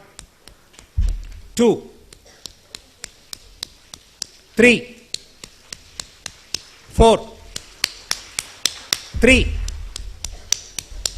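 An orientation audience performs the Manipal rain clap, a participatory clapping routine that mimics rainfall. Its rapid, regular finger taps and claps swell and fade, and a voice calls out counts over them now and then.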